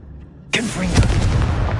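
A Confringo spell explosion in Harry Potter Legacy erupts suddenly after a quiet moment, a loud close blast followed by a sustained rumbling roar.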